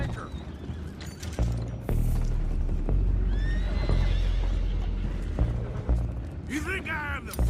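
Horses whinny and neigh in Red Dead Redemption 2 amid clopping hooves and rumbling background action, with a loud whinny near the end and voices speaking throughout.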